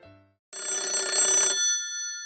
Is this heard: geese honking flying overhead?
no